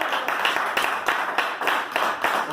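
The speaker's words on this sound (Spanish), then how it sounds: "Dale un aplauso al Señor." Congregation clapping at a Spanish-language church service, a loud, rhythmic unison beat of roughly four claps per second, close and continuous, with no speech over it.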